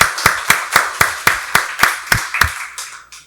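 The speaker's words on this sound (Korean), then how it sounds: "하나님께 박수로 영광 돌리겠습니다." Church congregation at a Sunday worship service claps in unison, about a dozen sharp, evenly spaced beats, close and loud, slowing and fading at the end.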